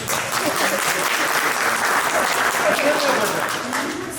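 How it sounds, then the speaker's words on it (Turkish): A crowd of students and officials applauds after an arm-wrestling match with the governor, dense, loud clapping that holds steady throughout, with voices talking and calling out over it. "Alkışlıyoruz."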